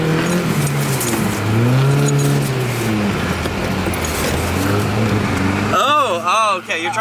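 A BMW E46 318i with cut springs revs and accelerates while drifting on icy snow, its engine note rising and falling loudly close by, then sharp rapid revving near the end, with people talking over it.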